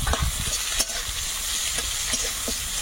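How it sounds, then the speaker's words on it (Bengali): Chopped onion, garlic and bay leaf frying in a pan, a close crackling sizzle broken by quick scraping strokes of a stirring utensil, no voices. "তেজপাতা দেবো, পেঁয়াজ কুচি, রসুন কুচিটা দেবো। পেঁয়াজটা হালকা ভেজে নিয়েছি।"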